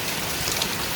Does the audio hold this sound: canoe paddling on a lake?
no